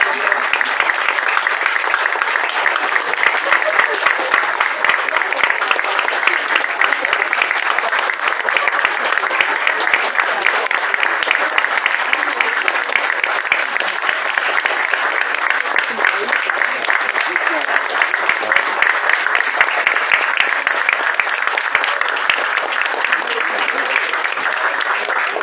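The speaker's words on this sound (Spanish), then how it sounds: "Un aplauso, vamos." Audience applause fills a bookshop during a book event with Romanian author Mircea Cărtărescu, steady dense clapping sustained for about twenty-five seconds with some voices mixed in.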